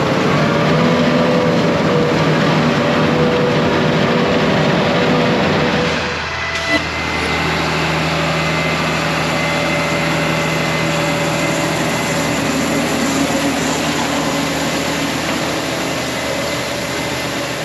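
A peanut picking machine runs in the field, a loud, steady mechanical roar and engine drone that dips briefly partway through, then carries on continuously.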